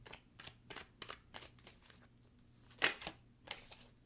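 Soft, quiet rustles and taps of tarot cards being shuffled, coming in irregular bursts with one sharper snap partway through.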